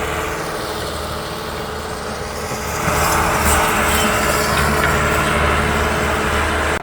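A tractor runs steadily while pulling a Zamindar Agro jack-type disc harrow with no strain on the engine. The loud, continuous engine drone swells slightly partway through and carries on without any speech.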